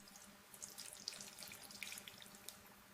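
Water runs from a tap in a house, a thin steady splashing stream for watering plants, faint and alone with small irregular spatters over a soft hiss.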